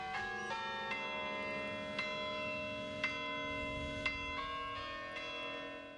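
Tower chimes at a university ring out in a concert, with sustained bell tones and clear strikes at roughly one-second intervals, distant and resonant, with no talk.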